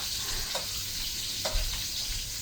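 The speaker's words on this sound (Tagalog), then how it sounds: "pa golden brown natin muna saglit lang papulahin natin ng konti" Onions fry in oil in a pan, giving a steady, close sizzle throughout, with a couple of brief stirring scrapes rising over the constant hiss.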